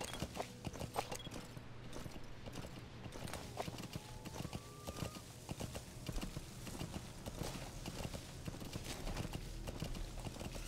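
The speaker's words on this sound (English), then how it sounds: "it is quite suspicious that a horse with a saddle just runs around here." Saddled horse's hooves clip-clopping steadily in Metal Gear Solid V: The Phantom Pain, a continuous rhythmic hoofbeat over quiet game ambience.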